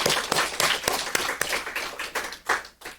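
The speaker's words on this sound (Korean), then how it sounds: "우리 다 같이 한번 박수로 격려하겠습니다" A church congregation claps together in a dense burst of applause, a loud, fairly close patter of hands that swells and eases over a few seconds.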